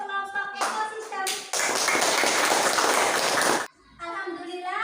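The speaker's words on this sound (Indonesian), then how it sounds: "Kita beri tepuk tangan untuk kelompok ekosistem." A classroom audience applauds a student group after its presentation on ecosystems. About two seconds of dense, close clapping sit between stretches of a voice talking before and after.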